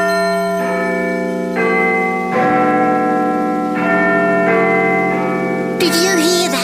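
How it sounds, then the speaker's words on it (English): Big Ben, the great clock bell in London, tolls in slow, resonant strikes at about one-second spacing, each stroke leaving a long ringing hum. The bell sounds loud and close, with a voice starting up at the very end. "What you can hear is Big Ben telling us that it's 4 o'clock in the morning"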